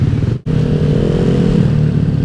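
Bored-up Honda Beat Street scooter riding, a loud close engine drone with a brief dip and steady throttle, the tone rising slightly through the run.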